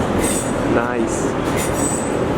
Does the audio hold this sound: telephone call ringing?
no